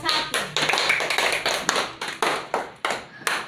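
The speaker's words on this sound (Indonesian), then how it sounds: "Tepuk tangan untuk kelompok 1." Children in a classroom clap for a group in sharp, uneven bursts, a dense volley of hand claps repeating about every half second, loud and close.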